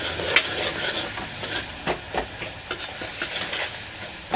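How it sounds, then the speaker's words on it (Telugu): Tomatoes sizzle softly in a hot pan while a ladle stirs and scrapes them in repeated short strokes, a steady close frying hiss running under the scraping, with no talk. "ఇవైతే ఇక మంచిగా మగ్గనిస్తాను టమాటాలని"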